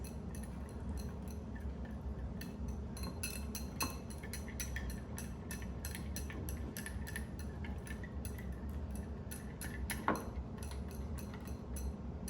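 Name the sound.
whisking spices together for a honey pear glaze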